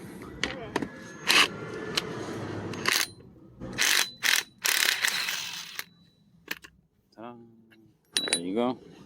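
Bursts of ratchet clicking come from a 17 millimeter socket working on a Geo Metro strut, broken up by pauses, metallic clinks and short bits of talk.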